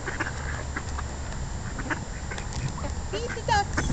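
Ducks quack at a pond as they are fed, a few short calls rising near the end over steady outdoor background noise.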